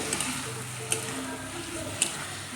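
Potatoes stirred in a cooking pan for a thin katla fish curry, with a soft steady sizzle and a few light scraping knocks of the spoon against the pan.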